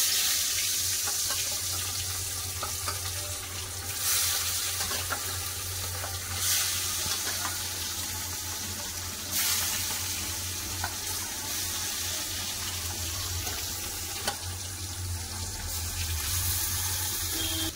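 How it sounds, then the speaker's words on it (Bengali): Fish frying in hot mustard oil in a home kitchen, giving a steady low sizzle and crackle with brief hissy bursts every few seconds, heard alone at moderate level. "বন্ধুরা ওপাশে তো মাছ ভাজা হচ্ছে।"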